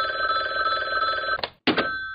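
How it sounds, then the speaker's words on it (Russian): A telephone bell rings loudly and steadily in a home, breaking off briefly and then starting again, with no one talking. "Тут тебе звонит телефон."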